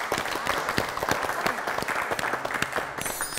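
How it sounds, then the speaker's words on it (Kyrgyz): A studio audience at a family game show claps, a brisk burst of dense applause with sharp individual claps, carrying on steadily over the short span. "Кол чабалар."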